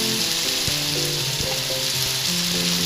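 Madhusoleng greens fry in a wok with turmeric and salt, giving a dense, constant sizzle close to the ear, with faint low thumps underneath and no voices.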